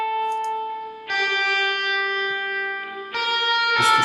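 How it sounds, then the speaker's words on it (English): Electric guitar played through an AC30-style amp with spring reverb, ringing sustained chords with a bright, shimmering tail, clear and upfront, changing chords twice with a brief strum burst at the end. "It's the same, like AC30 ripoff with spring reverb on it."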